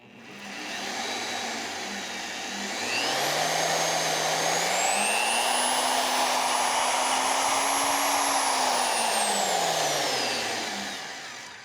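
A Vevor magnetic drill motor whines loudly and steadily up close, its pitch rising and then falling as the speed changes.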